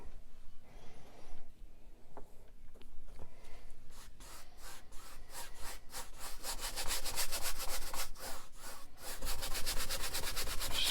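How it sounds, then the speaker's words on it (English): A brush scrubs oil paint onto canvas in rapid back-and-forth strokes that grow quicker and more regular toward the end, a close, dry rasping texture with no talking. "Scrub this in the best that we can."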